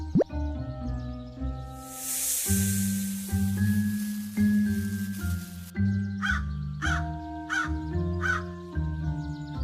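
A cartoon crow caws several times in quick succession over a bright, tonal music bed with plopping and dripping effects, loud and close in an animated story about a crow and a snake.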